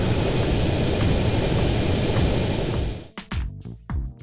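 A large airplane's engines roar as a steady, loud, continuous drone in the video game GTA San Andreas, then cut off abruptly near the end, leaving a few brief knocks and thumps.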